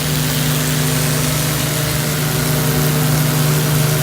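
A DM11002C edge rounding machine working stainless steel top and bottom, giving a continuous steady mechanical hum and whir with a low tonal drone, close and unbroken throughout.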